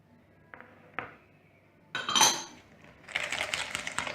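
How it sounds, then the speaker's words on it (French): Powdered sugar added to eggs in a mixing bowl for tiramisu, with a couple of light clinks, then a louder clatter of utensil against the bowl and a soft pouring rustle close by. "On y ajoute le sucre en poudre."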